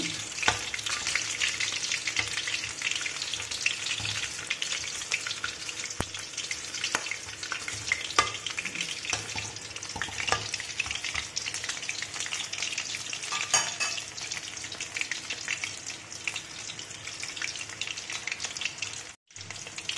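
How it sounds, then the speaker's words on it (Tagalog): Chicken frying in hot oil gives a steady, dense sizzle with scattered crackles and pops, close and continuous, with no voices. "luto na ang ating fried chicken"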